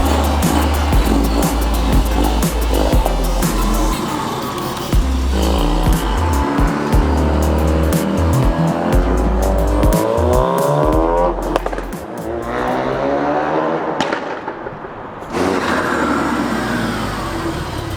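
A Ford Focus RS MK3, fresh from a full brake change, drives a quick road test, its engine loud and steady and revving up with tyre noise and squeal, passing close before easing off and pulling away again.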